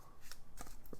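Matte-backed trading cards are mash-shuffled by hand, a few quick papery riffling bursts in close succession, fairly soft and near.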